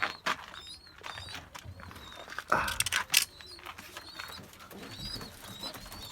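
A young blue pigeon and other pigeons at a loft give soft coos and calls amid wing flutters and scattered clatter, fairly faint with background noise and occasional bursts.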